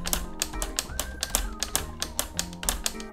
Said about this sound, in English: when you press each key, you get that little clicking sound,